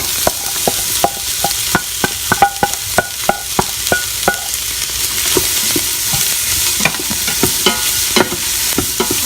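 Onion sautéing in canola oil in a pan for red beans and rice, a loud close sizzle with a string of sharp clicking stirs and scrapes of a utensil against the pan.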